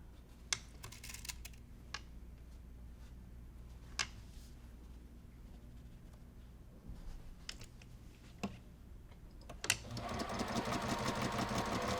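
A sewing machine stitches the seam of a Halloween bat quilt block, giving a close mechanical whir with scattered clicks. The motor runs up into a loud steady rapid rattle at the end.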